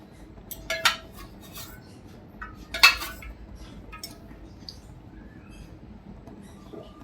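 A pan set down on a gas stove with oil poured in: two sharp metallic clinks of cookware a couple of seconds apart over a faint steady background hiss.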